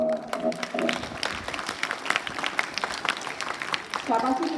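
Students clap as a group at a school foundation day, with scattered, uneven clapping running under ongoing talk and children's voices.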